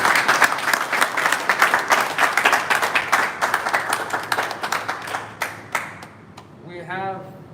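An audience at the Dubai Open event in December 2021 bursts into sustained applause for Team India, loud and dense at first, then thinning into scattered claps before a voice begins speaking at the end.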